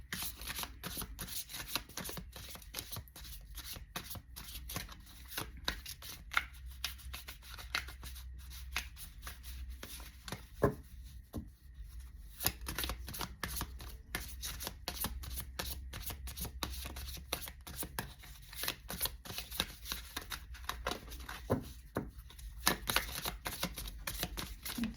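Tarot cards being shuffled in steady, continuous riffling and slapping bursts that run throughout, fairly close and alone with no talk.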